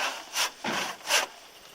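Hand saw cutting through timber during restoration of an old wooden house barn, with a few rasping back-and-forth strokes, close and fairly loud, with no talk.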